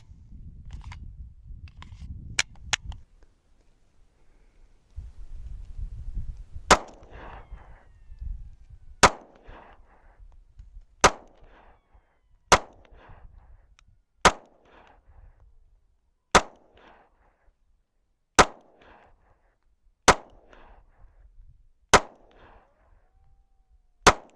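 Outdoor shooting of a SCCY CPX-2 pistol, a run of about a dozen sharp, loud single shots spaced a couple of seconds apart, with metallic ringing after each and some handling noise at the start.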